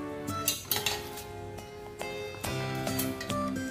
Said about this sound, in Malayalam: ഇനി നമുക്ക് ഇതിലൊരു സ്പൂൺ ഇട്ടിട്ട് ഇളക്കാം